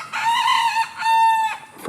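A jungle fowl rooster on a farm crows once, loud and close, in a drawn-out, ringing call lasting about a second and a half, followed by a brief sharp cluck.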